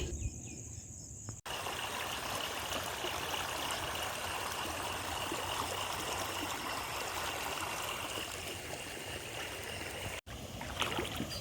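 Water rushes steadily through a breached embankment of a flooded paddy field, a constant near trickling roar with insects chirping faintly behind it and no talking.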